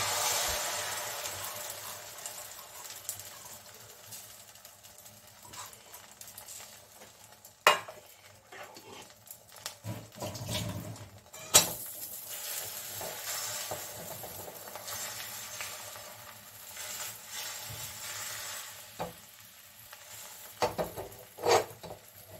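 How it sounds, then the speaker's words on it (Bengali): Egg poured into oiled hot pan for a stuffed omelette, giving a steady close hiss of sizzling with occasional clinks of utensil against the pan, no voice. "এখন আমি এই ডিমটা ঢেলে দিচ্ছি।"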